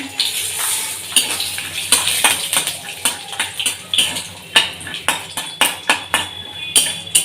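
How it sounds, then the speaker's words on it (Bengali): Peanuts fry in oil with salt in a wok under a steady sizzle, while a utensil scrapes and clinks against the metal in a quick, irregular rhythm of sharp strokes, close and fairly loud. "বাদামটা ভেজে নিচ্ছি একটু নুন দিয়ে দিই"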